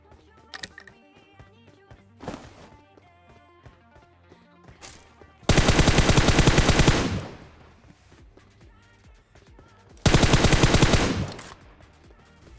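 PUBG Mobile gunfire: two long bursts of rapid automatic fire, loud and close, between quieter single shots and game sounds, with no talking.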